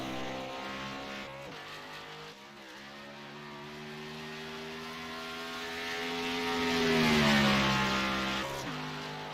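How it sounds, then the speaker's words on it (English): A number 8 Chevy race car in a sim racing game rolls out for warm-up laps at Darlington, its engine drone holding steady, then rising to a louder rev around the middle before easing back, with no voices. "And here's Carson Bowers bringing that number 8 Chevy out for his warm-up laps."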